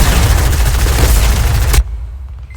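Bomb blast in a multiplayer video game match with shield bubbles, a loud broadband roar holding for nearly two seconds before cutting off abruptly into a quieter low rumble.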